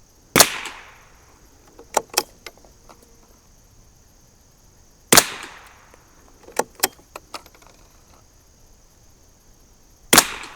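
Three separate shots from a 1972 Anschutz Model 54 Match rifle at a long-range target, each a sharp, loud crack with a brief decaying tail, followed by faint clicks of the bolt being worked between shots.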